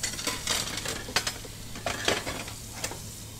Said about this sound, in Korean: 이제 설거지를 하면 됩니다